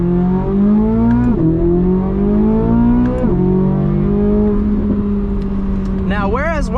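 A 2023 Corvette Z06 V8 engine growls loudly and continuously from the cabin while driving, its pitch rising and dipping through gear changes. Someone talks over the engine.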